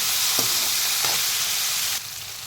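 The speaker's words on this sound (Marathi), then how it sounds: "आता ॲड करून टाका ह्याच्यामध्ये चॉप केलेले टोमॅटो आणि टोमॅटोला सुद्धा चांगल्याने असं परतून घ्या" Chopped tomatoes stir-fried in a pan give a loud, continuous sizzle. A couple of spoon scrapes break through before the frying noise drops suddenly near the end.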